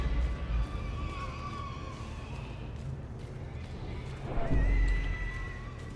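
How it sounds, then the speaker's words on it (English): A horse-like squealing whinny rises in the background of the Darkest Dungeon video game, a steady droning ambience with a louder squeal swelling near the end, no talking over it. "this squealing in the background is so soothing"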